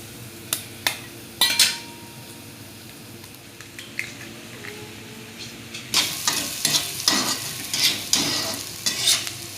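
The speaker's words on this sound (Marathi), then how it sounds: "आता याच्यात करून घेते मी अंडे." Eggs sizzle in oil with sautéed onion in a pan for spicy anda thecha, stirred with sharp scraping and clinks of a utensil; frying grows louder and denser partway through, close up.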